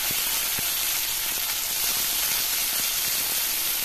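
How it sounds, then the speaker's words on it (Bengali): Chopped tomatoes hitting hot oil in a pan over a low gas flame, cooked for a Bengali dhokar dalna, give a steady close sizzle and hiss with a few small crackles, and no one speaks. "এবার প্রথমে আমি টমেটোর কুচিগুলো ছেড়ে দিচ্ছি"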